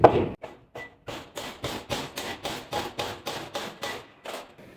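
Repeated hammer blows strike an iron key-holder end, about a dozen sharp, evenly spaced metallic hits at a steady rhythm, close and fairly loud.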